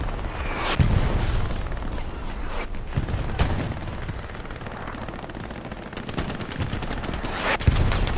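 Dense gunfire in the World War II shooter Hell Let Loose on the Sainte-Marie map, with loud overlapping rifle and machine-gun bursts crackling almost without pause across a busy battlefield.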